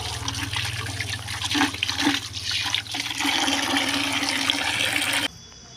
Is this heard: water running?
yes